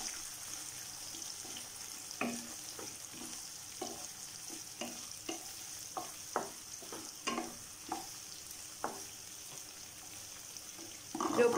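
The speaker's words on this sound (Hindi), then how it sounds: "जो ऑनियन लंबा स्लाइस में कट के रखा ऐड कर दिया और 1 मिनट हल्का फ्राई कर लूँगी" Long-sliced onions fry in oil with cumin, a soft, steady sizzle broken by a regular series of spoon scrapes and knocks against the pan, fairly quiet and close.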